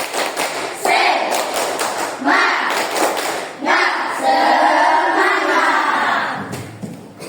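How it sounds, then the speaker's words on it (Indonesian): A classroom of schoolchildren performs the rhythmic 'tepuk semangat' clapping chant, bursts of patterned claps mixed with the children's chanting voices, moderately close and lively. "Tepuk semangat."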